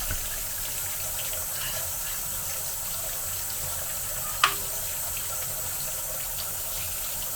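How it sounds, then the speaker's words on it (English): Tap water runs steadily through a hydroponic grow tent tube as it is rinsed, a constant broadband wash with one brief louder splash partway through, no talking. "I just run some water through it"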